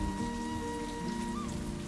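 Steady rain falls outdoors, a soft continuous patter heard alone under faint background tones.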